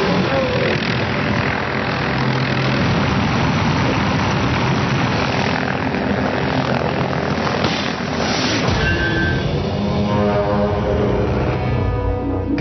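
Helicopter engine and rotor roaring continuously and loud during an elephant darting operation in the wild, a steady mechanical drone that fills the whole stretch.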